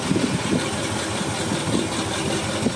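A 1950 Chevy 1 ton flatbed engine idling with piston slap, a steady, moderately quiet rumble with a faint rhythmic knock and no talking.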